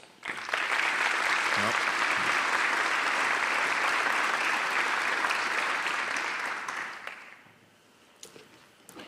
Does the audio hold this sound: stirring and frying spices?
no